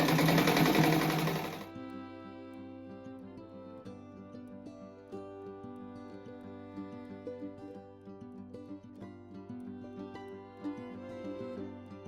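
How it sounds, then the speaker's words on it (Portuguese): Sewing machine stitching the sides of a fabric rug, with a loud burst at the start that drops to a quieter, steady mechanical hum and ticking for the rest of the clip. "Daí eu costuro dos lados igual eu fiz o outro."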